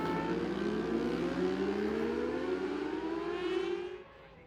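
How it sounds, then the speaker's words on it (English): A racing motorcycle at the Oliver's Mount road circuit gives a sustained, fairly distant engine whine that climbs steadily in pitch for about four seconds before fading off, alone with no commentary. "Matheson blipping the throttle as he slows the Drury's hairpin"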